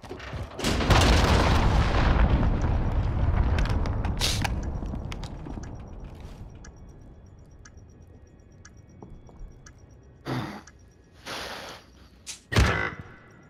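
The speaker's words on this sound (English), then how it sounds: "Enemy cruise missile incoming." Cruise missile explosions in Call of Duty: Modern Warfare multiplayer: a heavy, booming blast rolls out and slowly fades, followed by a few sharp, closer bangs and gunfire bursts.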